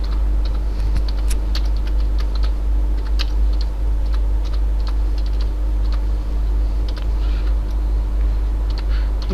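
Steady, brisk clicking of computer keyboard keys being typed, close and continuous throughout, over a constant low electrical hum.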